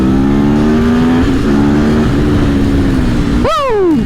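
Aprilia Tuono V4 motorcycle engine droning steadily through a gear, then revving hard with a sharp rising sweep near the end, loud and close.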